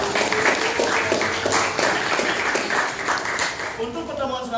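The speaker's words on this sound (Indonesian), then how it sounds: "Tepuk tangan untuk kalian semua." A classroom of students claps for a maths teacher after a lesson on compound interest, with steady, dense applause filling the whole stretch and a voice talking over it.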